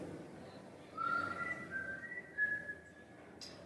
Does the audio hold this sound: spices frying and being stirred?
no